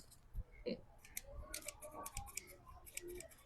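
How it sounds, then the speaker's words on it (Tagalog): Scissors snip hair at a home salon, thinning thick hair after a keratin rebond treatment, with several crisp, irregular close cuts and faint background sounds. "Gupitin lang po natin ng konti, ha, kasi medyo makapal na."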